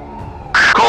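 Cartoon police car siren wailing as the cars head off across the city after a thief's van, loud and sudden in the second half after a quieter stretch of background sound.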